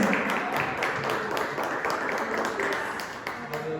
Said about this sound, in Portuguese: Aplauda o Senhor, glória a Deus.